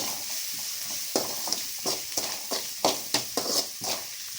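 Onions fry in a pan for an Andhra-style pumpkin dish, a soft continuous sizzle with a quick series of rhythmic scraping strokes from stirring, close and fairly quiet, with no voices.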